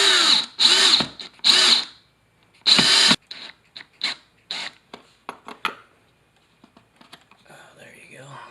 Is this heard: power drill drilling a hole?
yes